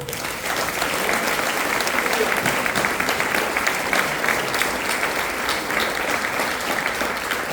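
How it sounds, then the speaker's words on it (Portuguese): A church congregation applauds the Lord during a worship service, a loud, dense and continuous wash of clapping that holds steady throughout, with some voices mixed in. "Vamos dar uma aplauso ao Senhor"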